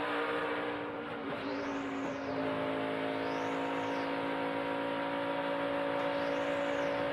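NASCAR Craftsman Truck Series truck engine racing through the turns at Dover, a loud sustained roar with steady harmonic drone and repeated rising-falling pitch swells as trucks power through the corners, no talk.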